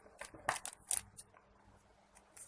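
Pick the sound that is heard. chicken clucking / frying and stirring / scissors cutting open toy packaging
scissors cutting open toy packaging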